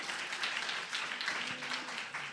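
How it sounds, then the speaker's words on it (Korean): A church retreat congregation gives brief welcoming applause, a moderate, fairly dense patter of clapping in a hall that stays even for a couple of seconds, with a faint murmur of voices underneath. "우리 환영의 박수 한번 해드릴까요?"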